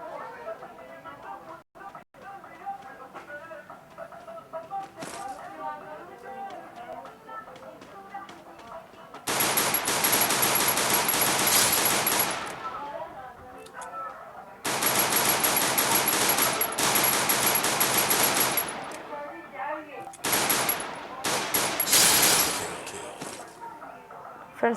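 Gunfire in a shooting video game comes in long rapid automatic bursts and shorter volleys, loud and dense, between stretches of quieter game sound and a talking voice.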